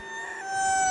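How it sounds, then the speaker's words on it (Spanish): Rooster crowing in one brief, clear, sustained call, fairly loud and close, with no voices over it. "Está sonando el gallo, está."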